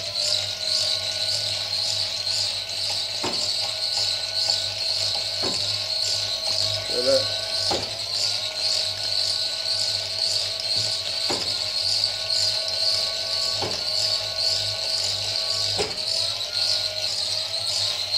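A wind turbine battery charge controller gives a series of faint, sharp clicks at irregular intervals as it brakes. The clicks sit over a constant electrical whine and insect-like buzzing.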